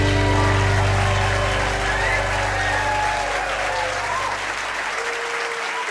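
Studio audience claps and cheers warmly for host Nick Forster at an eTown Hall anniversary show, loud sustained applause over lingering musical tones that gradually thins toward the end.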